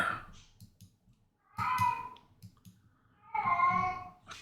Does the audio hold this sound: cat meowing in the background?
yes